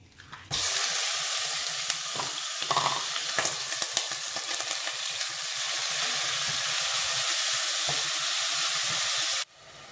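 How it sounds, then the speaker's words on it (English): Turkey meat sizzles and crackles loudly in a hot pan, a dense steady frying hiss that starts abruptly and stops abruptly, with a few clinks. "now while this is frying there"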